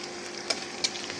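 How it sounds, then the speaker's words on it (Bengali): Chopped onion and garlic sizzling in hot oil for a Bengali dal tempering, a soft steady frying hiss with a couple of sharp pops, close by and without talk. "বাগার জন্য তেল দিয়ে দিচ্ছি, পেঁয়াজ কুচি"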